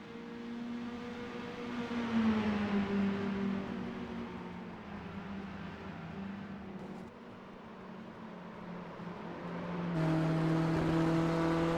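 Race cars drone along the backstretch at the Milwaukee Mile oval, their engine notes holding a steady tone that rises and falls as they pass, with a fresh surge of revving near the end.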